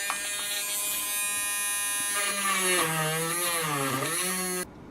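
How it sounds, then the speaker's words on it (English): A small electric drill boring holes whines with a steady high-pitched motor buzz, its pitch wavering as it works, then cuts off abruptly near the end. "It took me about 5 minutes to drill a hole"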